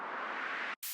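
Bright impact transition effect from a 90s dream trance production: a dense burst of broadband noise sustained for most of a second, cut off abruptly, then a brief second hit, with no voices.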